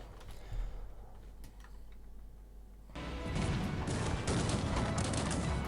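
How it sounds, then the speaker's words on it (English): Multi-barrel cannon fire in the strategy game Cossacks 3, a battle against an orange army: a dense, steady roar of overlapping volleys that swells loudly halfway through and stays heavy, with no talk. "Looks like my multi-barrel cannon is starting to do quite some damage to the orange army."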